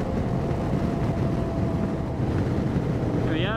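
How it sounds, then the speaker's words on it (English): Steady wind roars over the microphone during a two-up motorcycle ride beside Lake Benmore in New Zealand, a constant low rumble with engine drone underneath and a brief rising whine at the end. "And the wind's blowing down here."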